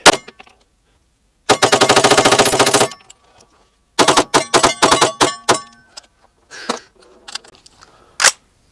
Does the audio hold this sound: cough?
no